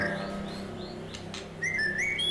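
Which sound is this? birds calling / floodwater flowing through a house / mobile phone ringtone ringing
birds calling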